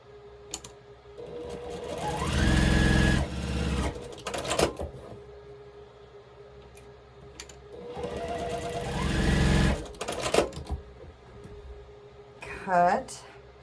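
A domestic sewing machine stitches quilt block squares in two separate runs, each a fast, even mechanical whir of a second or two, with handling clicks and small knocks in between and a voice talking at times.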